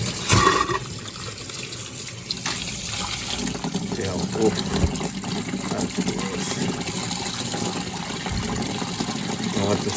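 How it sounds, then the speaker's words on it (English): Hot water runs from a tap to purge air and sediment from the line of a six-year-old Rheem water heater, a steady gush and splash that carries on throughout, with people talking over it. "Open up the hot water. Getting the air out of the line."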